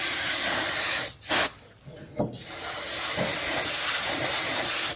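Brake cleaner sprays in a loud, continuous hiss onto greasy rear brake parts of a 2017 Nissan 370z with the sport brake package, breaking off briefly before resuming and running steadily to the end.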